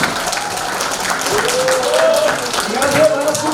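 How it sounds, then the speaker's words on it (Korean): Audience applause at a political forum in Korea, steady clapping throughout with a crowd murmuring and voices rising over it. "여러분 박수 부탁드리겠습니다."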